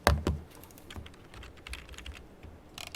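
Fingers type on a computer keyboard, a close run of quick, uneven clicks with a firmer keystroke at the start and a short burst near the end, with no talk.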